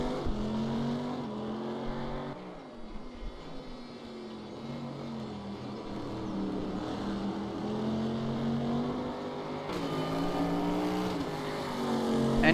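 A race car engine from RaceRoom Racing Experience drones steadily for the whole stretch, shifting pitch with gear changes and acceleration, with no talking over it.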